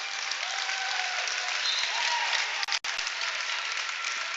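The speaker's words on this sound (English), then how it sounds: "the Purple Eagles will get a big hand here from the crowd at American University" Applause from a crowd at a high school basketball game at American University fills the clip as a dense, steady wash of clapping with a faint voice underneath, broken by two brief dropouts near the end.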